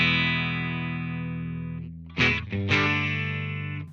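Electric guitar through a high-gain distorted amp model in the Fender Studio app: a sustained distorted chord rings out and decays, then a few sharp chord stabs ring again, close and alone.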